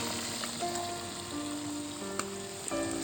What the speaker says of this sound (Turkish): Tavada balık pişirme yani kızartma da diyebilirsiniz